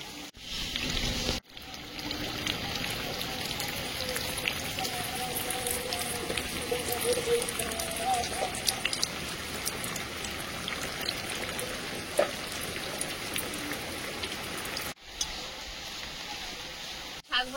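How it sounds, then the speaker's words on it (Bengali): Rain falling, a steady close hiss and patter of drops on surfaces that continues throughout with a few faint clicks and knocks mixed in. "আর বৃষ্টি হচ্ছে"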